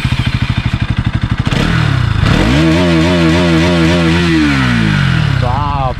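A Bajaj Pulsar NS 200 motorcycle with an aftermarket exhaust idles with a loud, close, pulsing thump, then revs hard several times, its pitch rising and falling in repeated wavering surges before dropping back.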